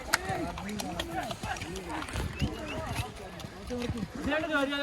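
Horse hooves clip-clop along a muddy mountain trail on a hill-station ride to Mini Switzerland, a loose rhythmic knocking heard beneath nearly constant chatter and speech from riders nearby.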